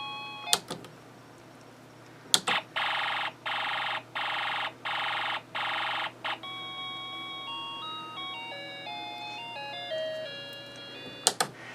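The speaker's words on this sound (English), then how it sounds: "it gives us the machine gun sound effect from the alarm IC" A Snap Circuits alarm IC plays its machine gun sound effect, a rapid string of six loud, evenly spaced electronic bursts followed by a falling series of synthetic tones, with a click at the start and the end.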